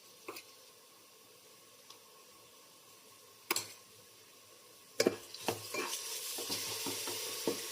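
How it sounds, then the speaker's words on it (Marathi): Ginger, garlic and coriander paste sautés with onion in a pan, a faint sizzle under occasional sharp scrapes and clinks of a spoon stirring against the metal, growing busier and louder in the last few seconds. "आता मी आलं, लसूण, कोथिंबीरची जी पेस्ट केलेली आहे ना, ती पण ॲड करते ह्याच्यामध्ये, आणि ती पण छान परतून घेते."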